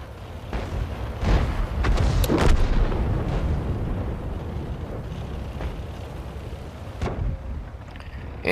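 Heavy booming cannon shots from a Strv m/41 light tank in World of Tanks, a few deep rumbling blasts that fade into low battlefield rumble, with a sharper report later on.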